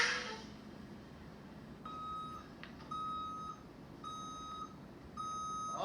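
A vehicle's reverse warning alarm sounds four evenly spaced, high electronic beeps, heard clearly above a faint, steady background of low noise.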